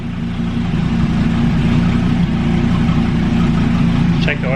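A Gen 5 Dodge Viper engine idles low and steady at close range, a continuous deep rumble with a small chirp near the end.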